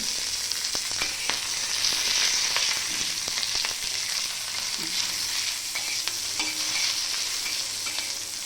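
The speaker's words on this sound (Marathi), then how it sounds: "लसूण पण टाकलं मी भाजायला हे बघा आता थोडंसं तेल टाकते" Green chillies and garlic frying in oil in a pan, a steady close crackling sizzle with scattered stirring clicks and scrapes throughout, no voices.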